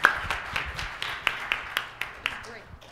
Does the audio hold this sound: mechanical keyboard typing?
no